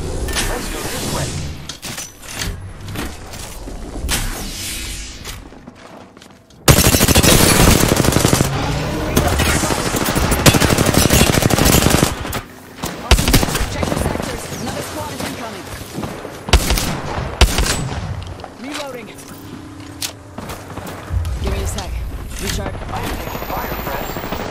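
Automatic and rapid gunfire in the video game Apex Legends, loud and sustained in dense bursts with booming impacts, heavy barrages mid-way and scattered shots around them.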